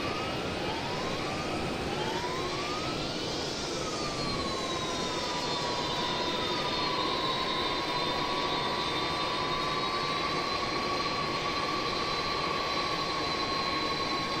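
Jet engines of a McDonnell Douglas DC-10 run steadily in a flight simulator game, a constant loud whine with rising and settling tones layered over a broad roar, and no one speaking.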